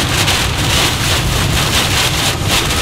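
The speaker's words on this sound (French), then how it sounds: "C'est de la grêle, ça. De la bonne grêle." Hail hammering a vehicle during a storm chase in northeast Texas, a dense, loud, continuous rattle and roar of ice striking the body with windy noise, no voices.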